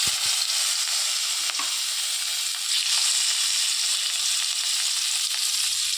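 Marinated fish pieces fry in mustard oil in a wok, a loud, continuous hiss of sizzling oil with a few faint clinks, steady throughout and no talking.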